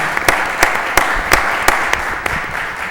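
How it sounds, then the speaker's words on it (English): At a Lowell school committee meeting, a small group gives a round of applause: sparse, evenly spaced claps ring out a few times a second, fairly close and clear, with no voices over them. "They deserve a round of applause for their hard work"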